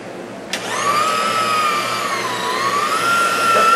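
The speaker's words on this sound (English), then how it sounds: "Now I'm actually polishing the floor." A floor polishing machine working over a pizza shop floor starts up partway through with a sudden onset, then holds a loud, steady motor whine with a slowly wavering pitch. No one speaks.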